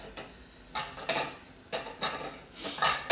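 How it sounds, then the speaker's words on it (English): Knife chopping ingredients for chicken and dumplings on a board, a handful of irregular sharp knocks and clatters, fairly close and moderately loud with quiet gaps between. "So I just chop this all up."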